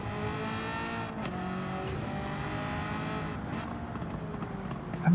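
Race car engine in Gran Turismo 7 during the American Clubman Cup 700 at Watkins Glen, a steady loud drone with shifting harmonics as the driver downshifts into third, ending in a sharp surge.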